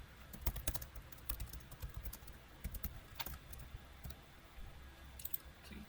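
A computer keyboard being typed on during HTML editing, short bursts of crisp nearby keystrokes in uneven clusters separated by brief gaps, alone in a quiet room.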